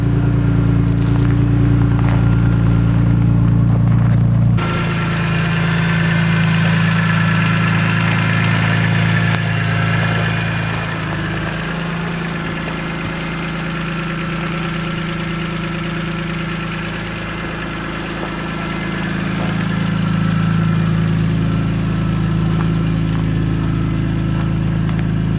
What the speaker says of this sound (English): Let it warm up a little bit, get some heat in the engine.